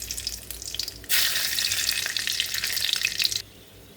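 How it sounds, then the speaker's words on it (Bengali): Whole garam masala, cumin and bay leaf hit hot oil with a sudden loud sizzle that crackles steadily for a couple of seconds, then drops back to a quieter simmer, with no voices. "জিরে, তেজপাতা ফোড়ন দিয়ে দিলাম"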